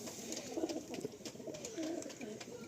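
Domestic pigeons kept for sale, cooing in repeated soft throaty phrases close by, with faint background noise and brief clicks around them.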